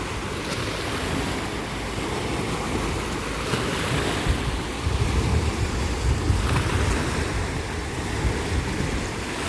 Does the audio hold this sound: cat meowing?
no